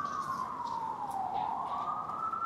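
A single wailing ambulance siren near Ground Zero in New York, its tone sliding slowly down and back up, steady and fairly loud throughout with faint street background.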